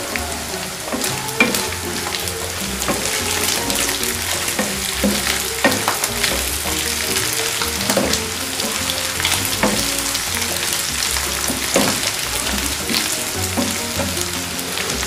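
Mutton frying in a pan with crushed chili and coriander seeds, a constant close crackling sizzle with occasional stirring scrapes, no voices.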